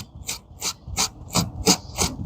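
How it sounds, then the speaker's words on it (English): Wire brush scraping fat from the quills of a turkey fan in quick, rhythmic rasping strokes, about three per second, close and fairly loud. "I just take a wire brush"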